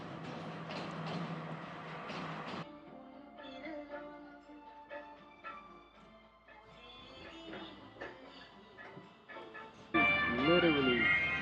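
Steady rumbling and rattling inside a nearly empty passenger train running from Ella to Kandy in Sri Lanka, with clatter from the carriage, swelling louder near the end.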